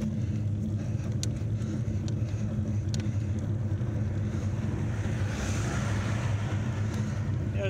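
A car approaching from behind on a quiet rural road near Font de la Figuera, its engine and tyre roar building steadily under strong wind noise, loud and close.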